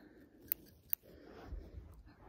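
Scissors trimming eyebrows during a close, quiet grooming session: two crisp snips close together, then soft faint rustling.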